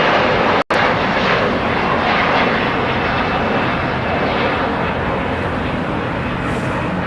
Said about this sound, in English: we got the United Dreamliner heading to Newark, flight 2096